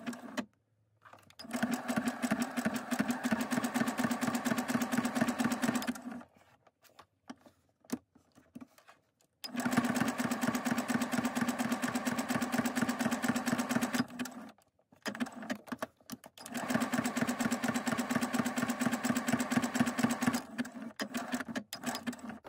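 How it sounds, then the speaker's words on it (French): A sewing machine runs zigzag stitching around a small fabric glasses-cloth pouch in three long, steady bursts of rapid needle clatter, close and loud, separated by brief pauses with light handling noise. "Je vais venir faire maintenant un point zigzag."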